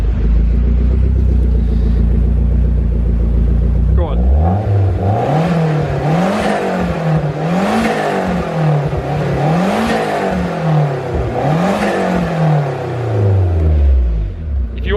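A turbocharged classic car engine idles with a deep steady rumble, then revs repeatedly in rising and falling surges with turbo whoosh, loud and close, with a brief spoken prompt.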